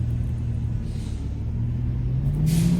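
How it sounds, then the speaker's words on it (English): Trash truck passing outside: a steady low engine rumble with a slowly rising drone and a brief hiss near the end, heard at a distance and without voices. "Sorry, the trash truck, if you can hear it."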